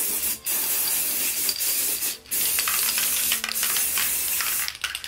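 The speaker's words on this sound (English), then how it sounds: "Oh, I just spray painted my phone." An aerosol spray paint can hisses close by in long continuous bursts with brief pauses between them, broad and airy, with no talking.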